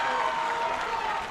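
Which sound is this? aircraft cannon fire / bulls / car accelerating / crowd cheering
crowd cheering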